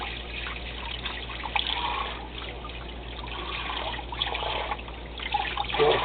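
Water running in a sink while pork skins are washed down for homemade bacon, a steady trickling, splashing flow throughout at moderate level, with no voices.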